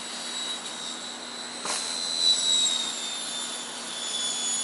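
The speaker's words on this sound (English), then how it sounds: "Sorry about the AC making a noise and the guy cutting the tile" Steady air conditioner hum with a faint high whine from tile cutting, one brief louder burst near the middle, fairly constant and moderately distant.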